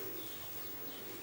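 Pigeons coo softly in a loft, a low, steady murmur of cooing under a noisy, hissy background, with no talking during the short stretch.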